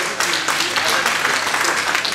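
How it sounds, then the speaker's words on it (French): An audience at a singing talent contest at a caravan festival in the Cévennes applauds in a dense, steady wash of clapping that runs throughout, with a voice or crowd chatter mixed in. "Ah ouais, applaudissements,"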